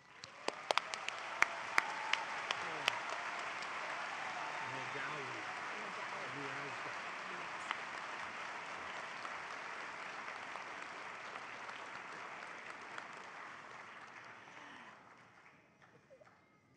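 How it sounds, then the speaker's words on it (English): A convocation crowd applauds graduates who have crossed the stage, a broad steady wash of clapping that runs loud for most of the stretch before thinning out at the end. "this seems like a good moment for a round of applause for those who've crossed the stage"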